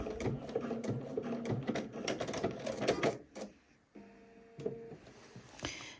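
A sewing machine stitches along a seam on a pair of pants, then back stitches; a rapid mechanical chatter runs for about three seconds, pauses, and resumes in short bursts.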